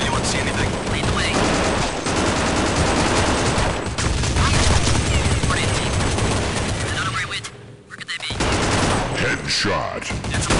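Rapid, continuous CROW-5 gunfire in Counter-Strike Online, loud bursts rattling almost without pause across the match, with a brief lull near the end before the shooting resumes.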